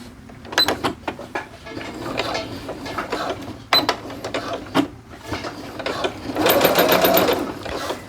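A home sewing machine runs a second row of stitching on joggers, in several short bursts and one longer steady run, with light handling of fabric between them.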